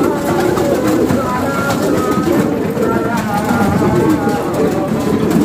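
Pigeons cooing on a rooftop where a flock is fed grain, a dense continuous murmur of coos and wing noise, with a voice talking over it.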